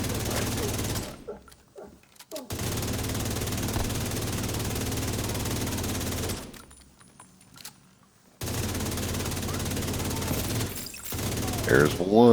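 Rapid automatic gunfire in the video game Into the Dark Scout 3, long sustained bursts broken by two short silent gaps, loud and close with some mechanical clatter near the end.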